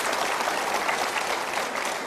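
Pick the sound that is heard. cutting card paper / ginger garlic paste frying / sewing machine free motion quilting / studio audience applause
studio audience applause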